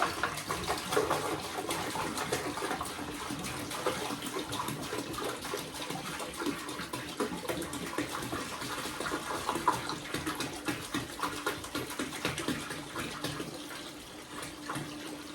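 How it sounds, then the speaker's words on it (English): Water poured from a jug into a frog tank, a steady, continuous splashing and gurgling stream that runs close and fairly loud throughout without pause. "now I've got to pour a jug."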